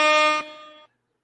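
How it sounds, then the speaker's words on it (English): A loud air horn sound effect blares as one steady, harmonic-rich blast for under a second, then cuts off abruptly into silence. "Let me see if I can try to give y'all a little air horn."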